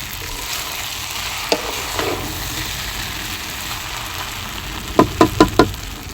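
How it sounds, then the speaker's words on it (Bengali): Rice frying dry in a pan for biryani before any water is added: a steady sizzling hiss with a small clink near the start and a quick run of four louder stirring scrapes near the end. "আমি কিন্তু এখনো পানি দিই নাই, চাল ভাজতেছি, ভালো করে কষাইতেছি।"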